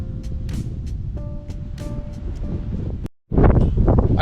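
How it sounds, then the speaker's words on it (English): Strong wind blusters outdoors near a river bridge at Barnby in the Willows, a loud, rumbling buffeting on the microphone with a faint hum in the background, briefly cutting out before gusting in harder. "it's very windy here"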